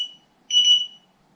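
A Kingsong 16X electric unicycle gives a short electronic alarm beep, a faint tail at the start followed by a single clear, steady high-pitched tone of about half a second, with quiet background otherwise.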